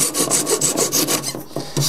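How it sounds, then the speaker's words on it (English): A flat flush saw cuts off wooden pegs flush with a wooden window frame, a rapid series of close, rasping back-and-forth strokes with a brief pause before the sawing resumes. "flat flush saw and just knock them all off"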